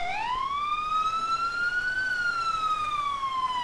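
A police car siren in the EmergeNYC video game rises into a loud, steady wail, alone and close.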